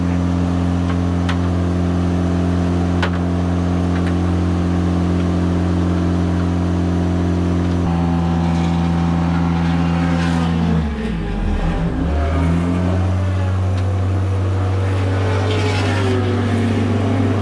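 A race car at Lime Rock idles with a loud, steady engine drone, then revs and pulls away, its pitch dipping and rising as it drives off for a lap.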